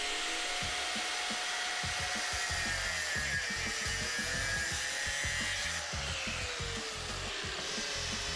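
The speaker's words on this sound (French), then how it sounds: "Puis, découpez à la meuleuse." An angle grinder cuts through solid steel slats for a garden rose arch, a continuous high whine over rough grinding with uneven pulsing, close and moderately loud.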